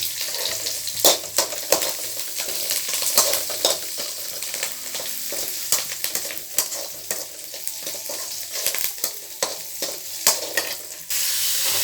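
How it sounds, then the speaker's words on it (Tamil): Curry leaves frying in oil until golden, a bright crackling sizzle broken by repeated scraping stirs of a spoon against the pan, fairly close and steady. "நல்லா பொன்னிறமாக வறுத்துருங்க அந்த இடத்துல கருவேப்பிலை போட்டுக்கலாம்"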